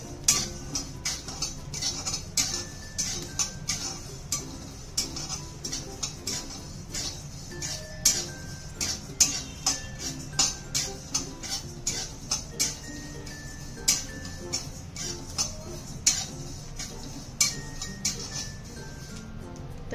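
Sesame seeds roast in a hot kadhai on a low gas flame, giving a steady run of small sharp ticks and crackles that continue throughout, close and fairly loud.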